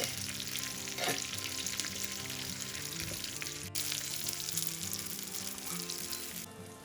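Steady crackling sizzle of spices and asafoetida tempering in hot oil for South Indian sambar, continuous and fairly close, with a brief clink partway through.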